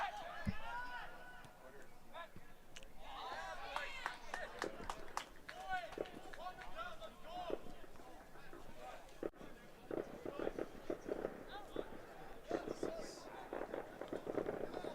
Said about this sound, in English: The fireworks still continuing in the background.